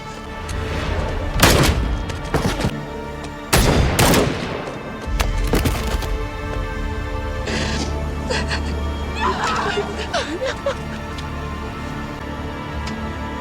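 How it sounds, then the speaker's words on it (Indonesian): Several loud sharp shots ring out early, spaced apart with echoing tails, then a quieter stretch of rumbling ambience and scattered faint noises. "Lalu Johan yang melihat Brasol lengah, ia pun langsung menembak Brasol"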